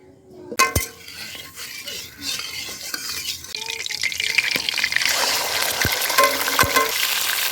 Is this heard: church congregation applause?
no